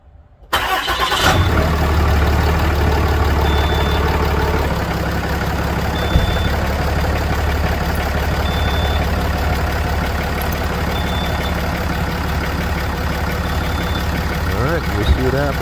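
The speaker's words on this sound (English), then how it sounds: "Now it's telling me to start the engine and turn the AC compressor on." A 2014 RAM 2500 truck engine starts after a moment of near silence, then settles into a steady, loud, close idle with the A/C compressor running, a constant droning rumble.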